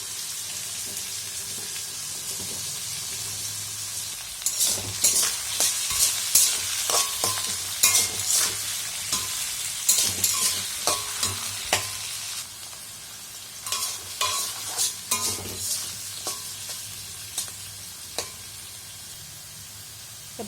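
Frying leftover rice with turmeric and salt in a pan, with bursts of spatula stirring and scraping, a steady sizzle underneath; close and fairly loud, no talking.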